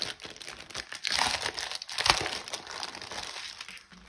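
A VIP Cross Stitch kit package is opened and unwrapped, with close crinkling and rustling plastic and paper, bursts of louder crackling, then quieter handling toward the end, no speech.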